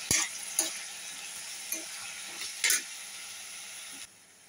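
Brinjal and potato pieces are stirred with softened onion in a pan, giving a soft continuous sizzle with a few sharp scraping clacks of a spoon against the pan, and no voices.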